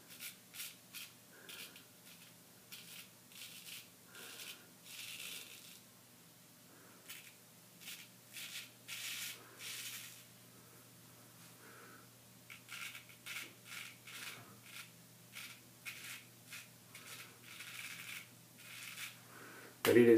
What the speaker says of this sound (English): You can really hear them cutting through the whiskers.